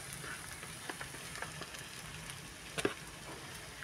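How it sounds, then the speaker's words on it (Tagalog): Sticky rice (malagkit) mixture stirred in a pot while it cooks, a soft steady sizzle with scattered scraping and clacking strokes, one louder knock near the end, no voices. "Ihalo natin siya maigi guys. Para ma-mix ng maayos."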